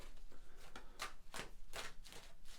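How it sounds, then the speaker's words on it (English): A deck of tarot cards being shuffled, giving quiet, rhythmic papery riffles and flicks in bursts about every half second, faint and close with no talk. "So I'm going to shuffle your cards."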